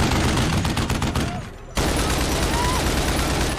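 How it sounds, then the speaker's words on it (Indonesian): A war film plays rapid, dense gunfire from a SWAT team firing off a Humvee at ISIS fighters, loud and continuous, briefly thinning before a fresh volley erupts for the rest of the scene. "Kemudian tim SWAT menembaki kelompok ISIS dari atas Humvee."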